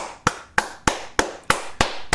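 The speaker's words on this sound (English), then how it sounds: "Clap it up, bro." Seven crisp, evenly spaced hand claps ring out one at a time, loud and close, with no voices between them.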